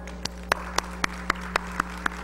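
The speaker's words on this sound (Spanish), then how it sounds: "solicito un fuerte aplauso" Sparse, evenly spaced claps, about nine sharp hand claps at a steady rhythm, welcoming a speaker at an education forum, over a constant low electrical hum with no talking.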